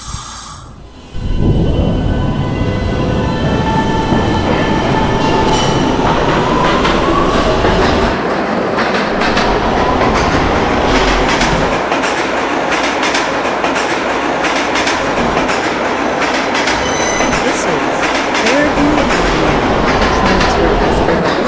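A subway train in the Roblox video game runs along the tracks, its steady rumble and rhythmic clickety-clack rising after a quiet start and continuing loud and close, with faint wheel squeals.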